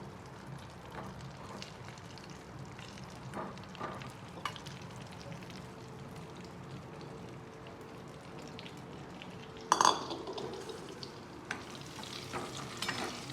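Stuffed red chillies roasting in a pan give off a steady soft sizzle and light stirring scrapes, with a louder clatter near the middle.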